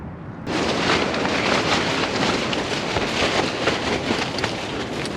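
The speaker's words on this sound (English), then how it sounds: "Well, the wind continues." Heavy wind gusts hitting a cheap tent during a stealth camping trip, a sudden roaring rush that starts abruptly and keeps up as a broad, loud, steady blast with slight surges.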